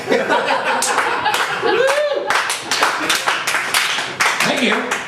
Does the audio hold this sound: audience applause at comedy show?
yes